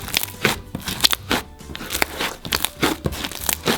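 Inflated clear butter slime mixed with clear clay being squeezed and worked by hand, giving a steady run of soft crinkling, crackling and popping sounds close up, with no voices.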